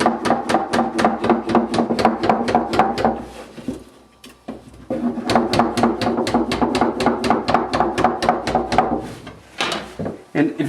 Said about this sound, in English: I'm going to hammer this over so it's at 90 degrees